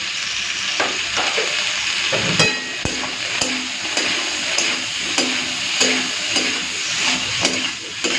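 Hilsa fish head cooking in oil with potato and eggplant, seasoned with salt, turmeric and red chilli powder, sizzles and fries steadily while a utensil stirs with periodic clinks and scrapes, close and continuous with no voices.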